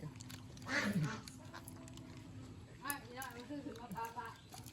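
Ducks quacking in a few short, nasal bursts at close range, mixed with a person talking over them.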